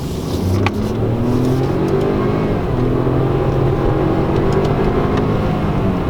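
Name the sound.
Ford EcoSport 1-litre three-cylinder engine accelerating in sport mode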